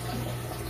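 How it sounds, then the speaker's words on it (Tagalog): Water pours into a crayfish tank holding about five inches of water, a steady close splashing rush that fills the whole moment without pause. "Siguro magdagdag pa konting tubig dito, parang 5 inches pa lang tubig."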